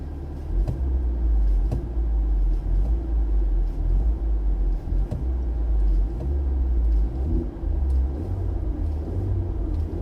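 A car engine idles and runs in sport mode, a loud, deep steady rumble heard from inside the car, with a few sharp clicks and knocks scattered over it and no talking.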